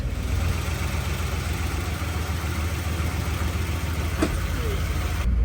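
A Cadillac engine idles steadily in reverse with a low, continuous rumble, close and fairly loud, with a faint click near the end.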